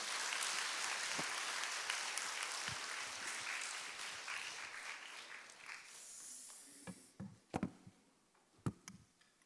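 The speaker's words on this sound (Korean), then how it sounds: "박수로 환영하도록 하겠습니다." A church congregation applauds to welcome the pastor forward, a soft, dense patter of clapping that gradually dies away into a few scattered claps and knocks.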